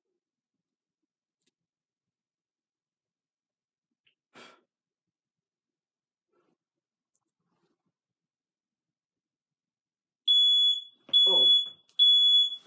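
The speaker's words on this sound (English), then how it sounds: "I thought that was the mains alarm going off." A Fire Angel ionization smoke alarm gives three loud, piercing electronic beeps in a steady pattern near the end. Before that there is a long stretch of silence with a brief sneeze-like breath, and the voice says very little.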